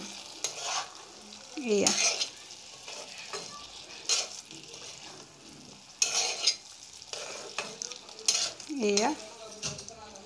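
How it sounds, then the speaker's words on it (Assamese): Potatoes stirred and frying in a pan for a jackfruit seed curry, giving a steady sizzle with scraping utensil strokes against the pan and brief spoken words over it. "এতিয়া কাটি থোৱা এইখিনি আলুখিনি এয়া ইয়াতে মই দি দিছোঁ, দি ধুনীয়াকৈ লৰাই দিম"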